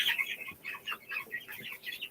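Newly hatched baby chicks peep in rapid, high, repeated chirps, close and fairly loud, a busy overlapping chatter with no talk.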